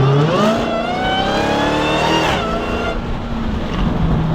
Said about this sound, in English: that's what makes your car whine louder